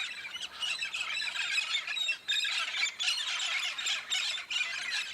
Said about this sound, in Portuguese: O papagaio charão é uma das preciosidades das florestas do sul do Brasil